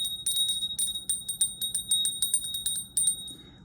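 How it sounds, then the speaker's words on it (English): A bright metal bell rings again and again in quick, uneven strikes, each one clear and sustained with shimmering overtones. The ringing is close and loud and continues for nearly four seconds without any voices. "let's ring the bell"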